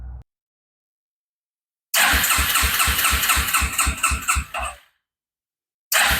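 Engine of a Tri Runner 250 three-wheeler running on propane catches and fires up, a loud rapid chugging run of about three seconds that cuts out, then roars again briefly, separated by silence.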